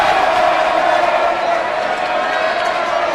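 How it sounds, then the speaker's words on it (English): Home crowd at a Cardinal Newman basketball game against Oak Montgomery roars and jeers after a missed shot, a loud, dense wall of voices filling the gym while a commentator talks over it. "Newman crowd will let him have it for that one."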